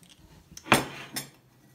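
A metal spoon clinks twice against a bowl of spicy chips: two short, close, bright taps about half a second apart in a quiet room.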